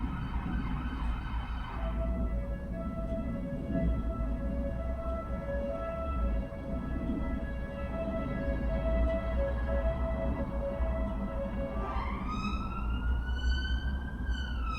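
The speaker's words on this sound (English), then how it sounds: "there's ambulances and police cars going off outside my room" Ambulance and police sirens wail continuously outside, one steady tone joined near the end by a rising, sweeping siren, with low traffic rumble beneath and no voices.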